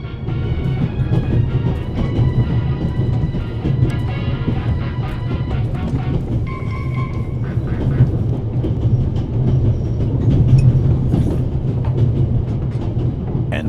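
A train runs steadily on its rails with a loud continuous rumble and rhythmic clickety-clack, close and unbroken throughout with no voices.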